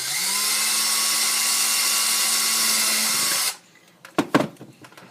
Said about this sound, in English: to drill this bottom hole in.